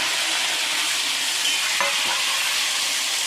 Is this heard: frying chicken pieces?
yes